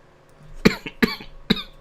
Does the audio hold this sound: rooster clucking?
no